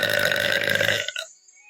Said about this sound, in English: I've been trying to like teach myself to burp on command